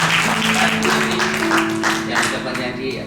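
A congregation claps at a church wedding blessing, a dense roll of applause under a speaker's voice and sustained tones throughout.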